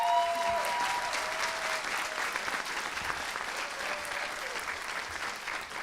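Dense, sustained applause from the audience at a council general assembly, a full steady wash of many hands clapping for several seconds and fading slightly toward the end, with no talk over it.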